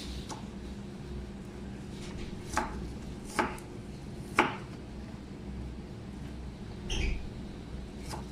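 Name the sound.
chopping onion for student-style nasi gila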